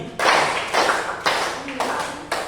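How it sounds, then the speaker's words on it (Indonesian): Hand claps in a Pancasila civics lesson: a short run of sharp, evenly spaced claps, each with a brief roomy decay, fairly close and loud. "tepuk 1 kali, tepuk 2 kali, tepuk 3 kali, tepuk 4 kali"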